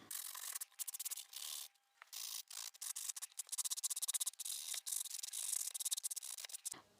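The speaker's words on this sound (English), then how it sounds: "I'm going to be taking this sanding block, and again this is just from Poundland" Hand sanding with a cheap Poundland sanding block, a run of quick rasping strokes in short rhythmic bursts with brief pauses, close and clear, with no talking.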